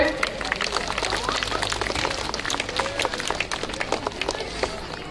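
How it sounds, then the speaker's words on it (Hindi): An audience claps at a school annual function at Venkateswar School, Jaraka, a dense steady patter of many hands that runs throughout while a voice talks over it. "ताली मारी उत्साहित करेंगे"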